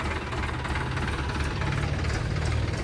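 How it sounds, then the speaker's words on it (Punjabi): An Indo Farm tractor's engine runs steadily with a low, knocking diesel chug and rattling vibration, loud and close, with no voices. "ਲੋ ਬਾਈ ਟਰੈਕਟਰ ਚੱਲਿਆ ਜੀ ਆਪਣਾ"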